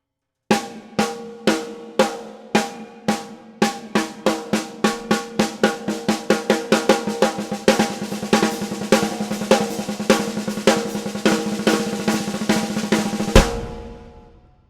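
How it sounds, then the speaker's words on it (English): A single drum is struck in a paradiddle-diddle sticking pattern, right, left, left, left, slow at first and then speeding into a fast, even roll before stopping abruptly. "So that's a paradiddle diddle."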